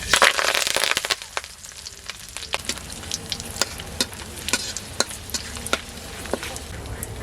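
Whole garam masala and dried chillies fry in oil for a duck curry, giving a steady close sizzle dotted with sharp crackles and pops. The sizzle is loudest at first and then settles into a busy hiss.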